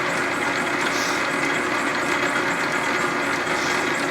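A sawmill cutting through metal gives a steady, loud mechanical drone with a continuous grinding hiss, running without pause and with no voices.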